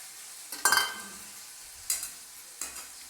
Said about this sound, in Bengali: আগে পেঁয়াজ রসুনটা তেলের মধ্যে দিয়ে দিচ্ছি